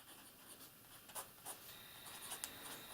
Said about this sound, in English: it's time for the writing sample, and we're using my Rhodia notepad